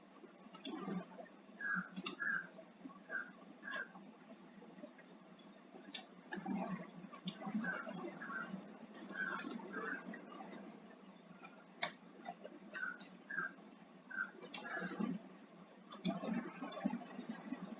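Faint, irregular keyboard clicks come in quick bursts with pauses between them as a verification code is typed, in a quiet room with no voices.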